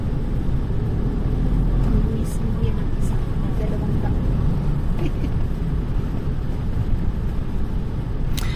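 Continuous engine rumble and road noise from a tricycle on a rural road in the Philippines, steady and fairly loud with occasional brief clicks and rattles.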